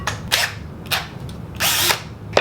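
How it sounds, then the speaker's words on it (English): A power drill fitted with a thin bit bores into a Sway Gen 2 boot soulplate, giving short, loud, close-up whirring bursts, three main runs with brief pauses between. "we're putting our thin drill bit into our drill."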